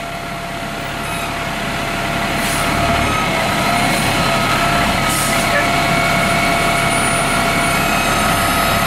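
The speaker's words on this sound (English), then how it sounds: "Right now he's going into crab walk." A truck manoeuvres in crab walk steering mode, its engine giving a loud, steady, close droning hum that swells slightly partway through, with a faint hiss of air.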